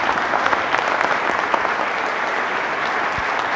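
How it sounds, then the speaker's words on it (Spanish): Loud, sustained applause from an audience at a lecture event welcoming a new professor to a university chair, steady clapping filling the whole stretch with no speech over it. "fuertísimo aplauso."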